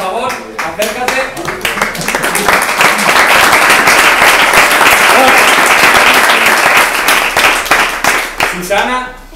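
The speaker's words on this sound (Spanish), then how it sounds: "Esta señorita que también está un poco tapada, pero Beatriz, por favor, unos fuertes aplausos" Loud applause from a crowd at a farewell gathering, building from scattered claps into a dense, steady wave before tapering, with a voice speaking briefly at the start and end.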